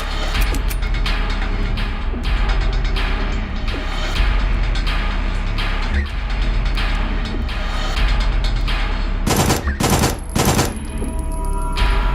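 Dense, loud submachine gunfire in the video game SIGNALIS, a continuous rapid rattle of shots over a low rumble, with a few heavier distinct bursts near the end.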